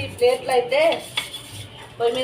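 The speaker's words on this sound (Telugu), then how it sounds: "ప్లేట్లు కూడా నీట్గా ఇట్లా అయితే తోమేసుకుంటున్నా. పొయ్యి గిన్నెలు కూడా నీట్గా తోమేసిన." Clinking and scraping of plates and stove pots being scrubbed, with squeaky rubbing tones and a few sharper knocks.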